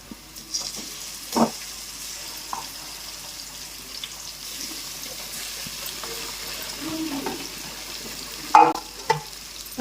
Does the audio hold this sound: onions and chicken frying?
yes